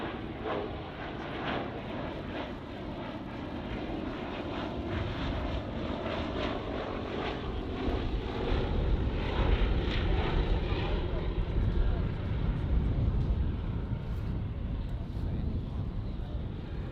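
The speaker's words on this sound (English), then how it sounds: "This is an aircraft that has a cruise speed of just 90 knots, which is 104 miles an hour if it's lightly laden." A propeller aircraft flies an airshow display at Duxford, its engine drone steady and loud throughout and swelling slightly midway, with wind buffeting on the microphone and a voice talking over it.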